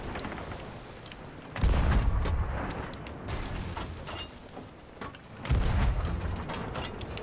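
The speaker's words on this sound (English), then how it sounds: "get ready to fire the cannons on the right" Two heavy Sea of Thieves ship cannon booms land a few seconds apart, each a deep thud followed by rumbling and clattering noise.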